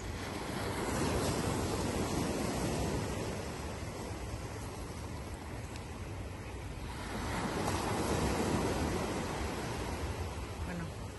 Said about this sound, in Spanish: el sonido de las olas en la playa